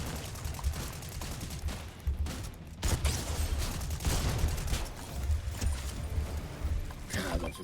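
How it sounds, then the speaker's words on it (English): Auto frenzy shotgun blasting in the Fortnite video game, a dense run of loud, rapid shots layered over busy in-game noise with no pause throughout. "God, I love this shotgun so fucking much. Auto frenzy shotgun so damn good."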